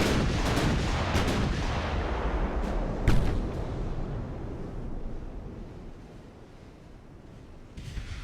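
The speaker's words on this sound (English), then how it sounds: "they are good and by God shooting at us" Naval gunfire in the Ultimate Admiral: Dreadnoughts game: a continuous loud rumble of heavy guns and shell blasts with one sharp crack standing out, fading slightly toward the end.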